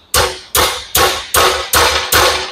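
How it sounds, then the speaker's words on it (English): Six loud metallic hammer strikes on a spanner, tightening a CLAAS baler cylinder, evenly spaced about every half second, each ringing briefly before the next blow. "give it a couple hits with the hammer"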